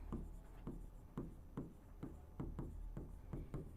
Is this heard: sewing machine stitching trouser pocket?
no